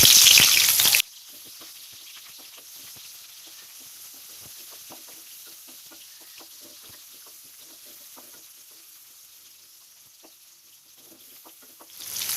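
Onion and whole spices fry in ghee and oil in a kadai, heard as a faint, soft crackle with light scattered pops, after a brief loud burst at the start.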